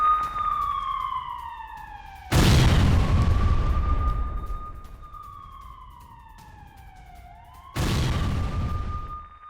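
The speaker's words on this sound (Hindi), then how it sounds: "वहीं इजरायल ने लेबनान पर तोप से दागे गोले।" Israeli artillery shells southern Lebanon, with two heavy booming blasts several seconds apart while a wailing siren rises and falls steadily throughout.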